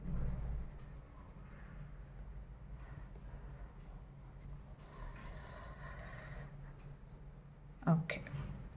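Colored pencils scratch softly across paper while coloring a children's drawing of Krishna in dark blue, a faint continuous rubbing under a speaking voice, with a brief louder tap near the end.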